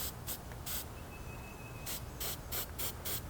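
Aerosol spray can hissing onto a WW1 bayonet during restoration, several short bursts then a longer run of repeated sprays, close and fairly quiet with no talking.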